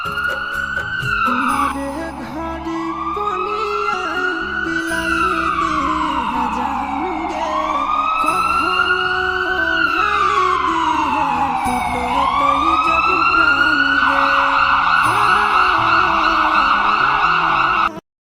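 A loud cartoon ambulance siren wails continuously, rising and falling in long repeated sweeps over a low engine rumble.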